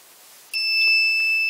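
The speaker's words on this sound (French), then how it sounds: "il y a déclenchement de l'alarme" Infrared beam barrier alarm on a homemade electronics circuit sounds a sustained high electronic tone that starts abruptly when the beam is cut and holds steadily, close and clear with no talk.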